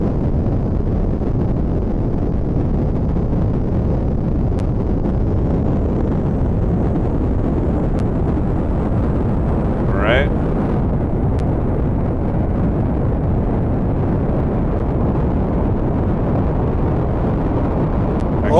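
A rocket engine fires in Kerbal Space Program as a steady, loud, broadband roar that runs unbroken for the whole stretch, with a brief higher whistle partway through.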